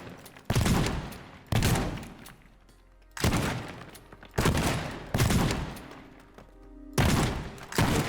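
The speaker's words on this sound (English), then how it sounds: "Shotgun." A shotgun in the destruction game Teardown fires six loud, separate blasts at uneven intervals of roughly one to two seconds, each a sharp boom followed by a rumbling, debris-filled decay.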